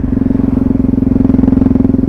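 A Yamaha MT-03 660 motorcycle engine runs close by with a little throttle, giving a loud, throbbing single-cylinder idle with an even, rapid pulse throughout.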